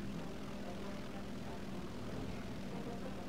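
Kyushu J7W1 fighter plane in the War Thunder video game straining through a slow takeoff, its propeller engine a steady, dense drone that holds constant throughout without a break.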